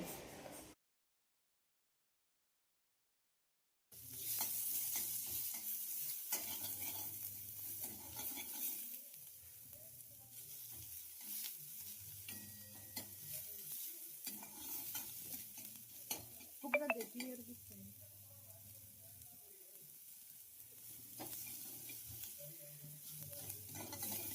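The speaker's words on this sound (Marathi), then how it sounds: "कांदा हलकासा सोनेरी रंग येईपर्यंत आपल्याला परतून घ्यायचा आहे" Finely chopped medium onion sautés in hot oil with cumin, mustard seeds and curry leaves, a faint steady sizzle broken by repeated rhythmic stirring scrapes after a short silent gap at the start.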